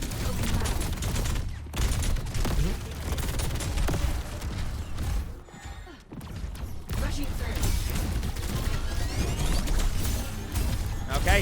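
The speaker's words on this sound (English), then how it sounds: "Don't be afraid to use your machine guns." D.Va's machine guns in an Overwatch match fire in dense, rattling bursts amid game effects and crashes, loud and nearly continuous with a short lull midway, while a voice talks over it.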